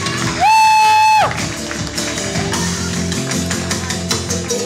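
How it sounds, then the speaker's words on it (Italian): Live audience applause and cheering at an unplugged concert, a dense wash of clapping following a short sustained tone, loud and steady throughout. "Un applauso."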